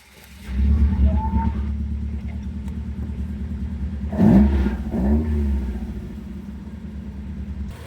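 Car engine firing up after a jump start from a portable jump pack: a rumbling catch into idle, then two sharp revs that rise and fall before settling back to a steady idle, with no talking.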